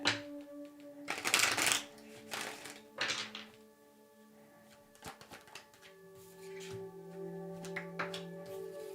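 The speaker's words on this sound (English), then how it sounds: "One more shuffle." Tarot cards are shuffled in a few quick riffling bursts up close, followed by softer taps and handling sounds, with a faint tonal hum in the background.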